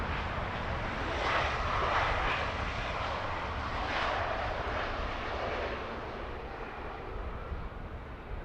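A Eurowings short-haul airliner arrives at Heathrow Airport, its engines a broad, loud roar that swells and holds, then eases slightly as the jet passes, with no voices.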